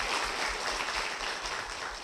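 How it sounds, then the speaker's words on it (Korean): A church congregation gives faint, steady applause. The soft wash of clapping sounds distant and continuous for a couple of seconds, with no voices over it. "한번 박수 부탁드리겠습니다"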